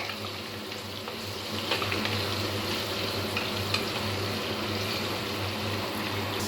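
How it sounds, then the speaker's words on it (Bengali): Cut potatoes with a pinch of turmeric fry in hot oil, a steady dense sizzle with occasional stirring scrapes, close and continuous with no talk. "খুব ভালোভাবে আলুগুলো কিন্তু ভেজে নিতে হবে।"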